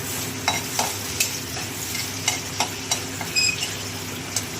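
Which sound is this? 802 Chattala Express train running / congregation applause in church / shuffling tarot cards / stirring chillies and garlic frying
stirring chillies and garlic frying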